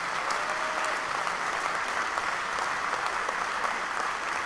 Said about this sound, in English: Let's give these two guys a round of applause.